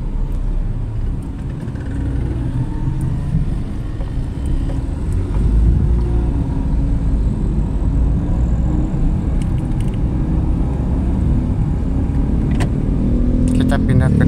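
A small car's engine labours with a low, rough drone when held too long before shifting gear, a steady rumble heard from inside the cabin under occasional speech.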